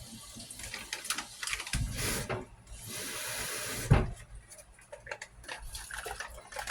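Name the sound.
pouring water into a bowl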